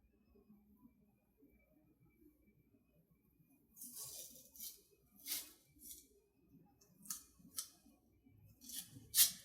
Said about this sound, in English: You can always cut your hypoallergenic tape in half to help better secure your probe to your extremity.